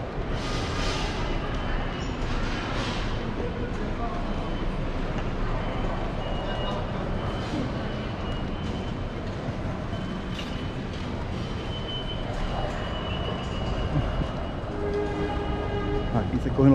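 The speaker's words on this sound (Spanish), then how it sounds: "Aquí se cogen los trenes acá para New Jersey." Dense rumbling din in the Oculus train station, New York City, with train noise and distant clatter, a constant wash of machinery and echoing activity throughout.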